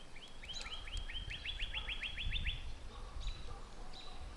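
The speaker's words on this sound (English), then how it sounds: "A lot of birds out singing today." Birds sing outdoors, one repeating a quick run of bright chirps, with scattered calls and low background rumble around them.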